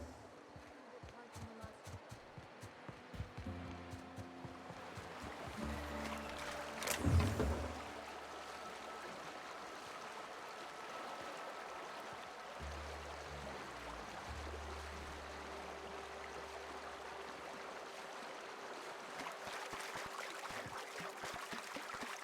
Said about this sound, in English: the waterfall's a good spot to wash your clothes